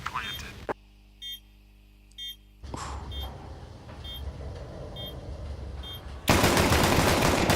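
Dual pistols firing in a Counter-Strike match, a string of evenly spaced, clipped electronic shots over a steady game background, ending in a burst of loud broadband noise, with a caster talking throughout.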